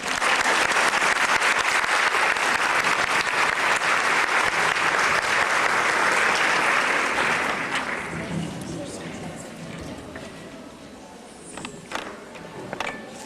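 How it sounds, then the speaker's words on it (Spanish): Conference audience giving warm, full applause to welcome a speaker, loud steady clapping that fades out over several seconds, followed by faint room noise and small shuffles. "para quien les pido un caluroso aplauso"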